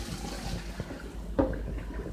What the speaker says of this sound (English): I'm just gonna pour these noodles